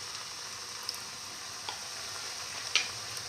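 Chickpea fritters with beef, tomato and fenugreek leaf frying in a pan, a steady soft sizzle with a few small pops and crackles.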